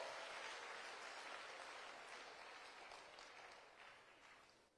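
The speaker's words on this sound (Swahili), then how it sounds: "Can we all from other schools put our hands together for the gentlemen and ladies?" Audience at a Nairobi Aviation College graduation ceremony gives graduates sustained, even applause, a dense wash of many hands clapping that slowly fades toward the end, with no talk.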